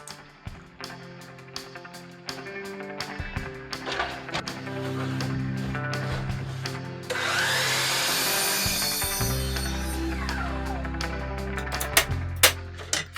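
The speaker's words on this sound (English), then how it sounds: "my first step is to cut the board in half on the miter saw" A miter saw cuts a cedar fence picket in half. Tapping and handling come first, then the motor spins up into a loud, steady whine and the blade bites through the wood in a sustained rasp before the motor winds down.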